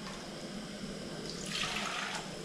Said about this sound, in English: I'll just add more water.